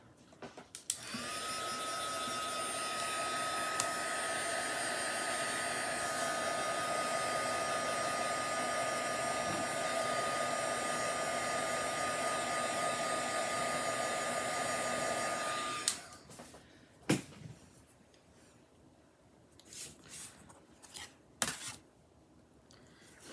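A hair dryer blows steadily and loudly on a Valentine's craft project for about sixteen seconds, then cuts off, leaving quiet handling noises and small rustles.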